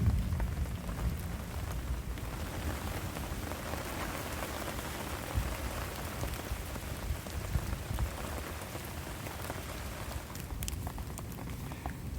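Steady rain falling in the woods, a dense, even hiss of drops pattering on leaves and surfaces throughout, with no voices.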